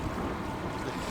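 A boat pushes through shallow coastal water on a windy day, with a steady wash of water and engine rumble under strong wind buffeting the microphone, continuous and close, no talk.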